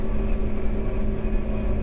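A steady, loud engine drone fills a JCB tractor cab as it drives along a road, with a constant low rumble and faint whine.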